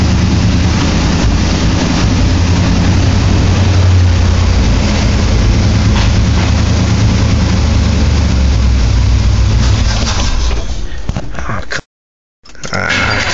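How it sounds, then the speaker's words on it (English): Chevrolet C10 truck engine running at a steady low idle in cold weather, a loud continuous rumble that holds for about twelve seconds before cutting out abruptly near the end. "Let's fire it up. Okay. This motor warm up a minute."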